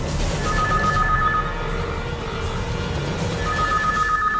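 A telephone rings with an incoming call, two bursts of an electronic ring separated by a pause, fairly prominent over a steady low background hum.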